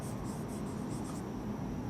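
Writing on a board in a classroom, a quiet run of short rhythmic strokes that stops partway through, with room hiss and no talk.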